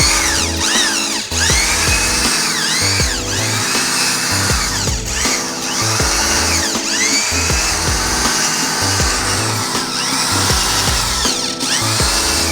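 A cordless drill fitted with a stiff brush scrubs a car's floor during interior dry cleaning, its motor whining loudly in repeated bursts that speed up and slow down with rough brushing underneath.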